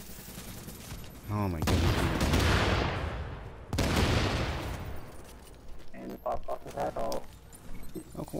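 Loud automatic gunfire from The Division bursts in long roaring sweeps, followed by shorter sharper shots, with a player talking and exclaiming over it.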